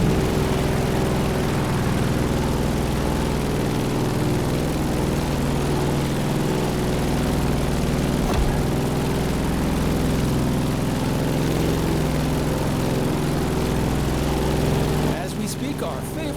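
A Grumman F8F Bearcat's propeller engine in The Crew Motorfest drones steadily and loudly throughout, a constant throbbing roar that shifts briefly just before the end.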